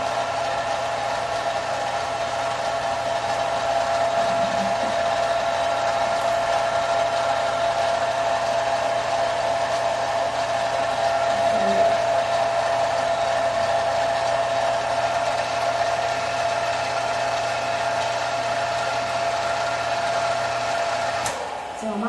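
A pasta machine rolls dough for smoked duck ravioli with a steady, even motor hum. The whirr runs unbroken and fairly loud for over twenty seconds.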